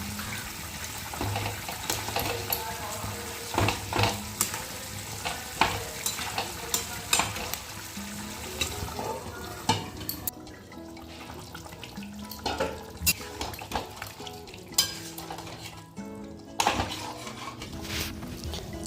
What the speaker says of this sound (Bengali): ঝোলে জাল উঠে গেছে এখন মাছগুলো দিয়ে দেবো